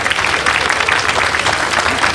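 Crowd applauding after a strongman's timed rope pull at a 1988 Britain's Strongest Man event, steady dense clapping throughout, fairly close and loud, with no voices over it.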